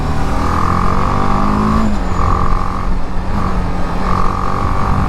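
Dense road traffic on a city street at 9 o'clock, a loud continuous rumble of engines with horns sounding in long repeated blasts and no voices.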